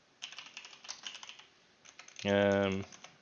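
A quick burst of keystrokes on a computer keyboard, then a short pause and a few more taps, close and fairly quiet, before a brief voiced hum near the end.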